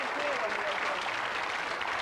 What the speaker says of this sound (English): Give him a nice round of applause there.